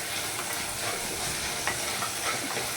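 Tomato and ground masala fry in a pan with a continuous close sizzle and occasional soft stirring, with no voices.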